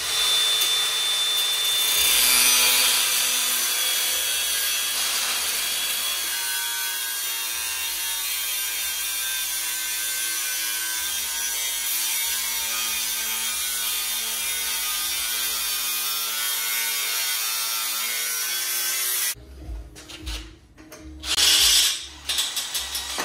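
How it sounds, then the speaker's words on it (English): Metal tabs being cut from a piece of scrap steel for a Jeep YJ roll cage, a steady, continuous grinding-cutting noise that runs for about nineteen seconds before stopping, followed by a few short bursts of cutting. "Let's get to cutting."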